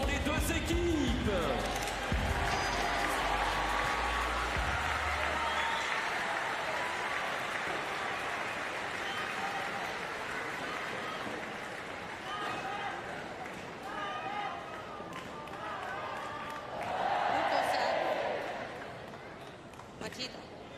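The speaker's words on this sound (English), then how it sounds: "mesdames, messieurs, on accompagne chaleureusement en applaudissant les deux équipes." Audience applause at a para table tennis standing doubles gold medal match, a broad steady wash of clapping across the hall that swells again briefly near the end, with an announcer's voice over it at the start.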